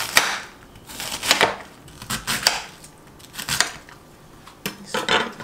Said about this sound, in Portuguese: Eu deixei o repolho pra cortar aqui, pra vocês verem como é que a gente vai cortar.